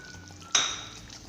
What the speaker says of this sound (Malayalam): ഇനി നമുക്കിതിലേക്ക് കുറച്ച് കറിവേപ്പില, കുറച്ച് മല്ലിയില